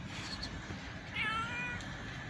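A street cat in Tel Aviv meows while being fed fish, a couple of thin, moderately close meows over a quiet background hiss.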